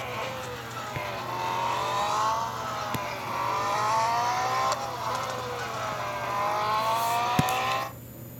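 Race cars in an endurance race running through a chicane, with a steady engine drone that rises and falls as gears and throttle change and other cars pass nearby, heard without talk.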